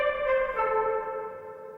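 A sustained synth chord with a shimmering, smeared tail from a short, high-feedback delay, steady and fairly loud throughout.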